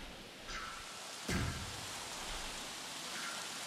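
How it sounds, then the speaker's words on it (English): Steady rain hiss with a brief louder splash or rumble partway through, fairly quiet and continuous, from the weather in the dinosaur park game Jurassic World Evolution. "Although it's only rain at the moment."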